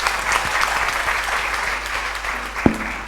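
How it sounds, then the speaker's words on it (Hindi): An audience claps steadily at a Gayatri Jayanti celebration and honouring ceremony at Shantikunj, the applause sustained and even, with one sharp thump near the end. "आप सब लोग ताली।"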